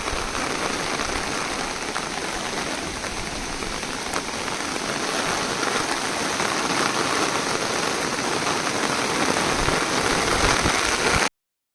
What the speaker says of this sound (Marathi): आता बघा अचानक पाऊस पडायला लागला